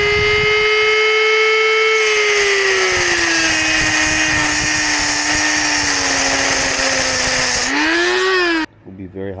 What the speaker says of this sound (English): then drill a couple holes and stick this behind it